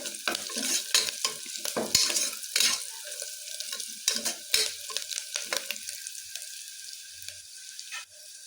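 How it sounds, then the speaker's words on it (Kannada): Onions frying in oil for vangi rice bath, stirred briskly with a spatula: sharp, irregular scrapes and clanks over a soft sizzle, close up, easing off toward the end. "ಈರುಳ್ಳಿ ಥರ ಎಲ್ಲ ಚೆನ್ನಾಗಿ ಫ್ರೈ ಆಗಬೇಕು"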